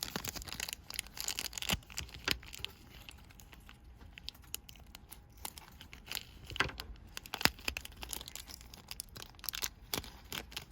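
Scissors cut open plastic packaging of a blind-box doll, crinkling and tearing with irregular snipping and crunching, close up and continuous, with no talking.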